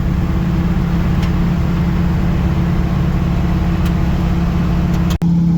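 A 1964 Ford F100 pickup cruises at about 60 mph, its engine a steady low drone with road hum filling the cab, joined near the end by a single sharp click.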